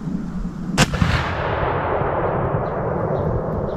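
A single loud CVA Optima LR muzzleloader rifle shot fired at a target outdoors, a sharp close blast followed by a long rolling echo that fades slowly under steady background noise.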